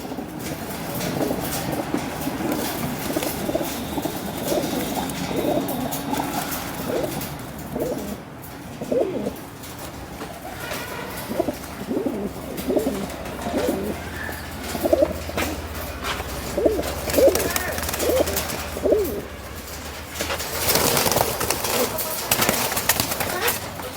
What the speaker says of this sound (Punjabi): ਇਹ ਕਬੂਤਰ ਜਿਹੜੇ ਮੁੱਲ ਲਿਆਂਦੇ ਸੀਗੇ ਆਪਾਂ